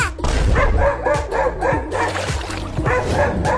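In a cartoon, two dogs chasing a cat bark loudly and repeatedly, with yips and whimpering mixed in, close and energetic in irregular bursts.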